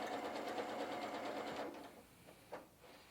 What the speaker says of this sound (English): I'm going to go ahead and sew a little faster and see what it looks like.